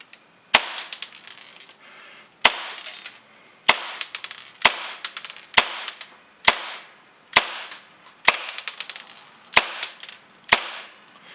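An airgun with a UAC aluminum nozzle valve fires ten sharp, loud shots. Each crack is followed by a brief ringing decay, and the shots come at slightly uneven intervals of about a second with no talking.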